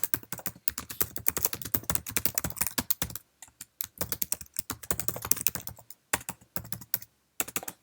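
Fingers type an email on a Mac keyboard, producing steady, close key clicks in quick irregular bursts broken by a few brief pauses.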